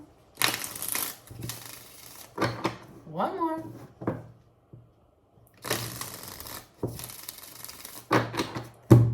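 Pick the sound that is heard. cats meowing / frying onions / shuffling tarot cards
shuffling tarot cards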